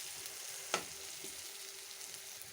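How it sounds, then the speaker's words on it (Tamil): Masala of chilli, coriander, cumin powder, garam masala, turmeric and salt sautés in a pan for an okra sabzi, giving a faint, steady sizzle with one sharp clink of a utensil early on. "மசாலா கொஞ்சம் நல்லா வதங்கணும்."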